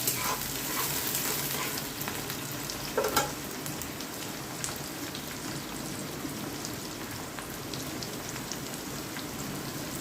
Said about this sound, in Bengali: ভাজা হয়ে গেছে আমার পেঁয়াজ আর ক্যাপসিকামটা